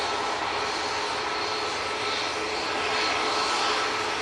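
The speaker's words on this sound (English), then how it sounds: "Ryanair coming on, Victor Bravo, coming straight down" A Ryanair airliner roars steadily on its landing approach at Manchester Airport, a loud, continuous broadband engine rush holding close throughout with a faint steady tone beneath and no voices.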